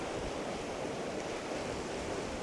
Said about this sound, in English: And these rapids here are really flowing.